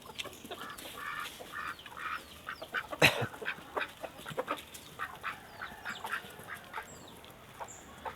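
Country chickens let out of their coop in the morning cluck and call in a busy, overlapping chorus, with one sharp louder squawk partway through and a steady scatter of fainter clucks.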